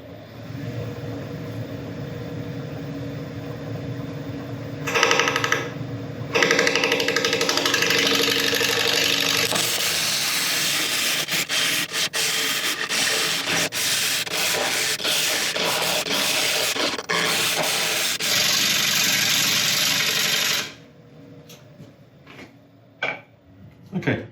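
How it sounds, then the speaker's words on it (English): A wood lathe spins an oak burl at about 700 RPM while a gouge cuts it, giving a loud, continuous rough scraping and whirring with a motor hum that briefly changes pitch and then stops, followed by a few faint knocks. "we're going to start turning at about 700 RPM"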